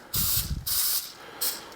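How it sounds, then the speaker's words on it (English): Three short hissing bursts of cooking spray from a can, close up, with brief pauses between them and no voices. "hit them with a little bit of pan spray"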